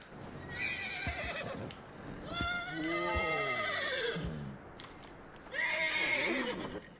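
A horse in Red Dead Redemption II whinnies repeatedly, three drawn-out neighs at close range with some hoof clip-clop between them and no talking.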